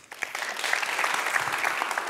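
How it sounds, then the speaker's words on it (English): An audience at an evening talk event gives a warm round of applause for the final speaker, dense steady clapping heard from within the crowd throughout. "I'd like a warm round of applause for our final speaker tonight"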